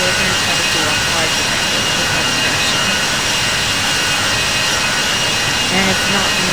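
Ryanair jet airliner engines in a flight video game roar as a loud, constant broadband drone that fills the whole stretch without letting up.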